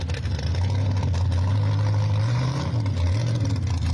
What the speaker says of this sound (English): here's Rick Undersay's dragster, I think he said? Yep. On the street